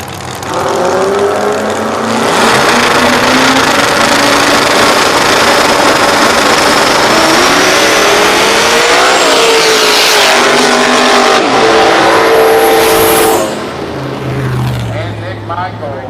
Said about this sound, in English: A couple fast cars here to end round number one of small tire.